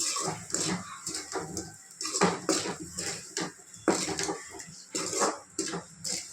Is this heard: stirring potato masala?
yes